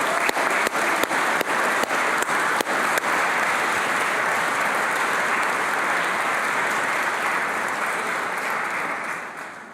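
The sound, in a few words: audience applause for teachers at graduation ceremony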